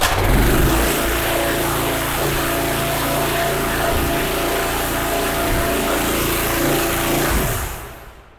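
A gas-powered cold water pressure washer engine runs steadily and loudly for several seconds, a continuous mid-pitched drone with a slight throttle swell near the start, then fades out at the end.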